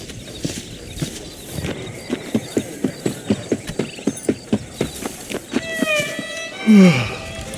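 A horse's hooves clip-clop in a steady, even rhythm in the Red Dead Redemption game, followed at the end by a short whinny-like cry.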